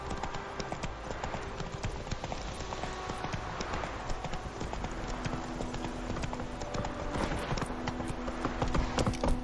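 Hoofbeats of the horse Roach galloping in a video game, a fast steady clip-clop rhythm that runs continuously and grows slightly louder toward the end, with faint game sounds around it.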